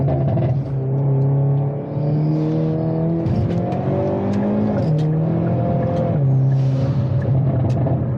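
A Hyundai Kona N pulls hard through the gears from inside the cabin, its loud engine drone rising in pitch, dropping at each quick shift and climbing again, three or four times across the run.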